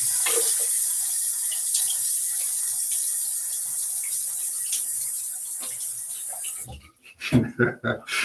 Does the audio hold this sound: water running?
yes